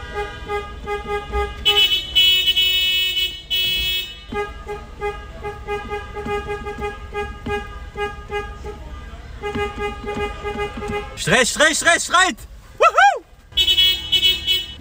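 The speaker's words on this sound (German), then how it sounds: "Was hat der für eine hässliche Hupe?" Car horns honk repeatedly in Istanbul traffic on New Year's Eve, some long sustained blasts and others short toots, with a warbling alarm-like horn and a brief voice.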